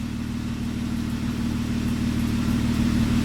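Warmed-up Jeep Wrangler JK engine idling through a Magnaflow 15236 exhaust on a cold day, a steady deep low rumble that holds close and loud for the whole stretch with no voices over it.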